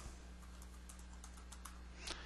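Faint keystrokes on a computer keyboard, scattered and irregular over a steady low hum, with a slightly louder cluster of taps near the end.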